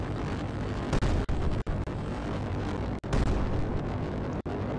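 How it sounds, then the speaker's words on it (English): A rocket launch in the Brick Rigs sandbox game roars as a loud, sustained, rumbling blast, broken by several brief dropouts and sharp cuts, with no voices. "And a rocket just got launched into space."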